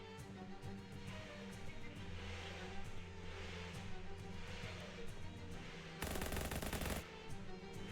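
A rapid, loud burst of automatic gunfire fills about a second near the end, set against steady game music and ambience from the video game Shadows Over Loathing.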